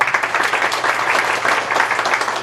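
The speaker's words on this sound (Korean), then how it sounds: "박수 한번 주세요." An audience at a church Bible study class claps steadily, a thick, even wash of applause that holds close and loud throughout.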